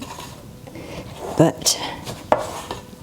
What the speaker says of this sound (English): I just use my little spatula. Scrape the sides down